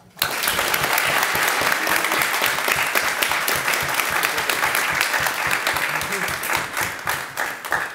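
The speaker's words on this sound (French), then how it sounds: "sous vos applaudissements, Achille Billard" Audience applause greets debater Achille Billard at the grand final of a parliamentary-style eloquence debate, a loud, sustained burst of clapping starting abruptly and continuing throughout, with voices beneath.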